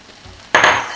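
Already-cooked rice is tossed into a hot pan for Chinese fried rice, and a sudden loud hiss erupts halfway through the second before quickly fading, after a quiet start.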